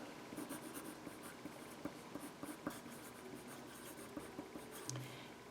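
A pencil scratches out a name on paper in quick, faint, close strokes with small taps and pauses, quiet and alone.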